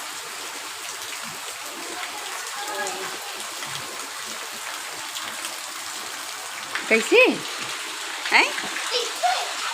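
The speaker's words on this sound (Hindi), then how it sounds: "शाम के टाइम पानी गिरा तो देखो संगवारी हो अपन भी हमारे तो शाम का टाइम पानी गिरता।" Evening rain falls steadily as a soft wash of water, with louder splashes and dripping near the end while someone speaks briefly.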